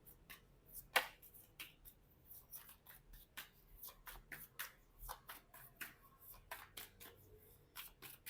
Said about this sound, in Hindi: काफ़ी सारा शफल कर लिया मैंने कार्ड्स को